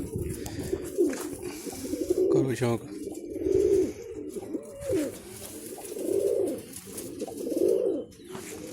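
Pigeons coo repeatedly in soft, rolling bursts close by, and someone speaks briefly over them.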